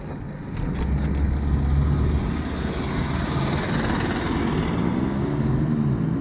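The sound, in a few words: unhealthy-sounding car engine passing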